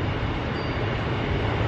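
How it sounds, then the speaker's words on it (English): A Class 158 diesel train rumbles steadily throughout, a low continuous engine drone with rolling noise, heard from close by. "Getting on the train, it's a 158."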